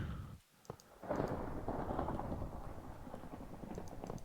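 Thunder rumbles through a storm in the Minecraft video game, a loud, sustained broadband roll that swells after a brief dip and keeps rumbling steadily for several seconds, with no talk over it.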